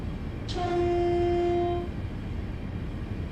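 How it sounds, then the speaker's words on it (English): Train horn from a train simulator game on the Chatham Main Line, a single sustained, steady blast of about a second and a half that ends cleanly and is heard alone over low background hum. "This rail driver can only sound the horn in one direction."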